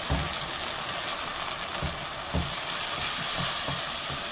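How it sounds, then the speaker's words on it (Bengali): Spice masala of coriander and cumin powder frying in a pan for a beef shutki dish, an even, dense sizzle close up with soft periodic stirring thumps, continuous throughout without speech. "মশলাটাকে সুন্দর করে কষিয়ে নেব"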